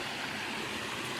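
Stream water rushes past a big rock near a spring, a close, steady broadband wash of flowing water with no voices.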